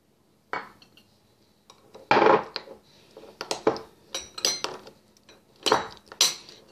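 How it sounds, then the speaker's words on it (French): Butter and lemon juice being mixed with a metal utensil in a dish while preparing baked drum fish, giving a series of close, uneven clinks and scrapes with short pauses between them and no talking. "Fait que je mélange ça avec mon beurre. Un peu de jus de citron."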